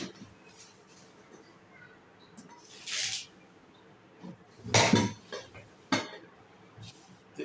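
Non-stick granite ceramic cookware pans and lids being handled, with a few scattered metallic clanks and knocks of lids against pans, close by, separated by quieter handling noises and occasional low talk.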